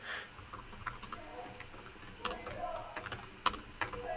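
Fingers tap out bursts of keystrokes on a computer keyboard, the clicks irregular and moderately close, with faint background noise between them.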